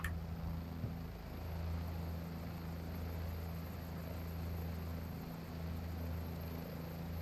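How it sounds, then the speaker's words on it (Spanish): A helicopter comes in to land near Puente Viesgo in Cantabria, its rotor and engine a steady, loud droning hum with no break throughout. "voy a posar el helicóptero"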